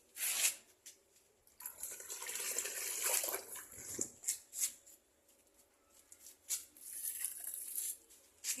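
Liquid compost poured from a cup onto garden plants, a few separate splashing pours with drips and trickles in between, close and fairly quiet.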